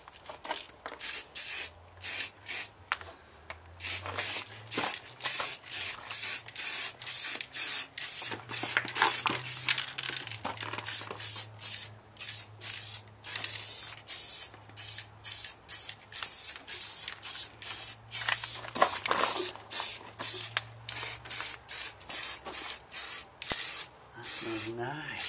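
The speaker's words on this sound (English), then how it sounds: "Just spraying over this old paint now." Spray paint hissing from an aerosol can over old paint on a car part in a garage, delivered in many short bursts and longer sprays with brief pauses, with someone talking at times over a low hum.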